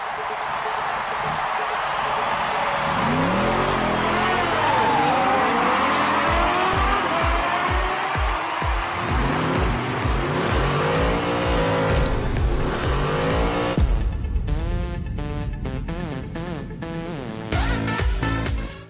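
Rocket-powered cars from the soccer-style video game Rocket League roar and rev continuously, with repeated tire squeals and skids, sharp boosts and crashes throughout, loud and busy in the game mix.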